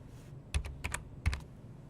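Numbers being typed on a computer keyboard while entering values into a software editor: two short bursts of a few crisp keystrokes each, close and clear over a quiet room hum, with no talking.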